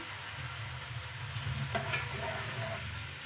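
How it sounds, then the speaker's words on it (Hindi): An onion sautés in a pan with a steady close sizzle while a utensil stirs it, giving a brief scraping sweep midway; moderately loud, no talk. "मैंने इसमें 1 प्याज, हल्का सा इसको सौते करेंगे"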